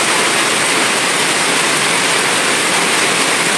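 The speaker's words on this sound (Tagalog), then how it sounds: "Bundak ang uwan." Heavy rain pours down in a dense, steady roar of hiss that stays constant and loud throughout, with no voices.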